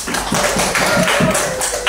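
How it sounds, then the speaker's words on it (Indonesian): A classroom of students clapping their hands together, a steady run of overlapping claps continuing for a couple of seconds at close range, with no talk over it. "Kalau gitu tepuk tangan buat kita semua."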